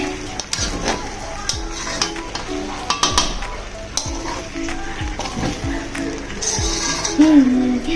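Food is stirred and fried in a pan where the bottom has started to stick, with a steady sizzle under repeated scraping and clinking from a utensil against the metal. Muffled voices are heard faintly in the background.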